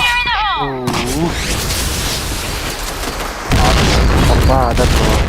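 Grenade explosions in the shooter game PointBlank, a loud continuous booming roar that swells again partway through, with a voice shouting over the start and end.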